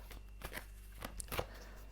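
A tarot deck is shuffled by hand, giving faint, soft rapid riffles and taps of cards in a quiet room with no talking.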